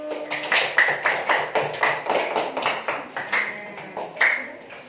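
Rhythmic clapping from a classroom of students applauding groups, steady and fairly close, with sharp repeated claps running through the whole stretch.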